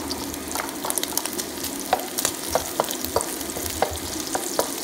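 Garlic frying in a reduced amount of oil for chopsuey, a steady soft sizzle with scattered clicks and scrapes of stirring, fairly quiet and with no talking.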